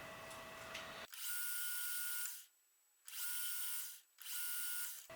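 A drill whirs in three bursts of about a second each, drilling a shell mill arbor for a 1/4-20 tap, loud and close, separated by short pauses.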